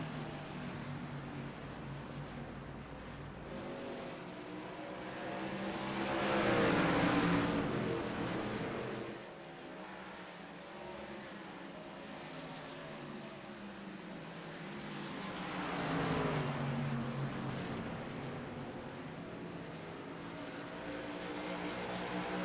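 Race truck engines in an iRacing truck series race: steady engine drone with two loud swelling passes as trucks roar by, rising and fading, with no talk over them.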